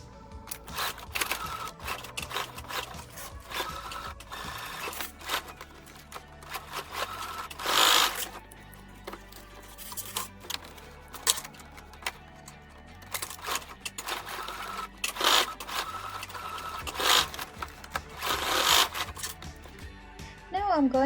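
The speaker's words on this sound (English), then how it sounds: "Now sew it on the yellow line." Sewing machine stitching old denim for a backpack: short bursts of rapid mechanical chatter at close range, separated by pauses and handling noises, with a voice speaking over parts of it.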